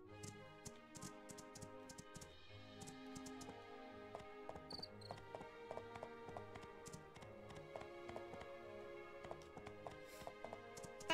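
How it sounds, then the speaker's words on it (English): Horse hooves clip-clop in the video game My Time at Portia, a quick, steady run of light taps repeating throughout over a faint background bed, with no talking. "shall we take out the new horse?"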